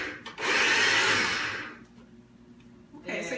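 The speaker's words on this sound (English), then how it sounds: "So let me just pulse these." A food processor pulses chickpeas in a home kitchen: one loud, close whirring burst lasts about a second and a half, then stops, with a brief rattle and the start of another short pulse.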